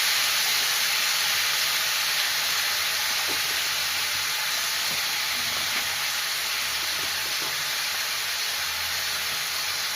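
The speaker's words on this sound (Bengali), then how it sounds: "এবার টমেটোগুলো নেড়ে চেড়ে আমি হলুদ পাউডার দিয়ে দিচ্ছি" Tomatoes sizzle steadily in a hot pan while being stirred, a dense continuous hiss of frying with faint occasional scrapes underneath, close and even throughout.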